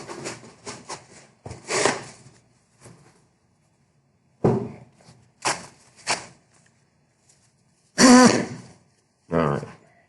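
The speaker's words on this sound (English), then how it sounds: "I gotta blow my nose" A person getting over a cold blows their nose several times, a series of short, loud, breathy honks and snorts with quiet gaps between them and one especially strong blast near the end.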